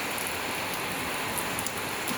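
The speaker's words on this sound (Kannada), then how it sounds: "ಫಸ್ಟ್ ಟೈಮ್ ಮಳೆ ಬರ್ತಾಯಿದೆ" Light first-of-season rain falls in a village, a dense, even patter of drops that holds steady and fairly close throughout, with no voices.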